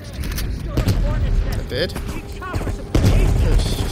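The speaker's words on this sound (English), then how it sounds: "you followed the road right toward the sound of gunfire" Bursts of gunfire, including M16 fire, and explosions from a firefight in Call of Duty: Black Ops Cold War on PS5, continuous and fairly loud, with a voice speaking briefly over the shooting.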